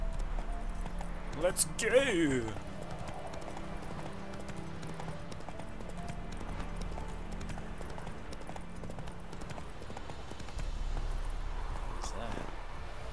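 In The Witcher 3, the horse Roach clip-clops on the ground in a steady rhythm of hoofbeats, quiet in the background, while someone speaks briefly.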